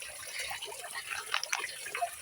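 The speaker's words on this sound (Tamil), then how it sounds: "தண்ணி எவ்வளோ ஊற்றுது பாருங்க" Water gushing from a tank outlet into a field in a village, a continuous hissing splash of flowing water at moderate level, heard alone without talk.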